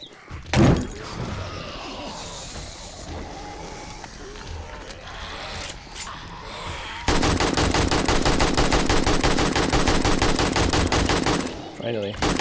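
Rapid automatic gunfire in the video game 7 Days to Die while shooting a bear, with scattered shots first and then a long, loud, sustained burst near the end.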